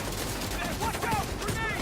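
Gunfire in the video game The Division 2, a busy fusillade of shots mixed with background game noise and faint voices, continuous and moderately loud.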